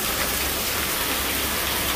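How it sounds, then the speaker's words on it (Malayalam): Heavy rain pours down outdoors in a dense, even hiss of drops striking surfaces, loud and continuous close by, with no voices. "ഇപ്പൊ നല്ല മഴ."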